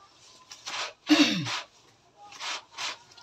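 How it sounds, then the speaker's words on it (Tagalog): A brush scrubs laundry by hand in a series of short, rasping strokes, about five, with a louder stroke near the middle mixed with a sharp breath. "So imbis kuso-kusoon, brasan na lang."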